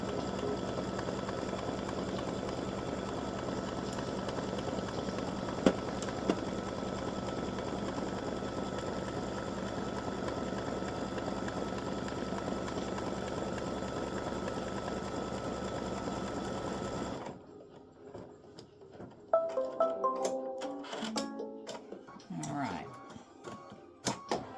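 An embroidery machine steadily stitches the seam line on an in-the-hoop Valentine hearts mug rug, a close continuous rapid whir for about seventeen seconds before stopping, followed by quieter handling sounds and talk.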